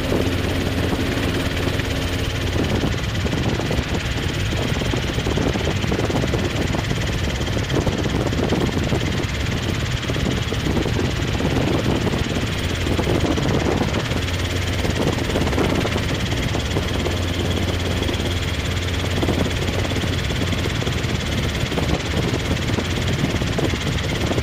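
Robinson R22 helicopter during a training flight, a loud continuous engine and rotor drone with a steady rhythmic chop, heard close from inside the cabin without pause.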